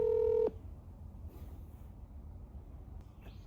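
A single steady telephone keypad tone rings out loudly for about half a second, then cuts off, leaving only low background hum and faint room noise.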